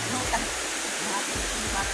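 Rushing water swollen by heavy overnight rain, a steady broadband rush close by with a voice speaking briefly over it.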